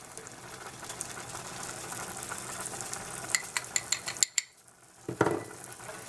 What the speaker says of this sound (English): I'm using a plastic whisk because this is a coated pan and I don't want to hurt my pan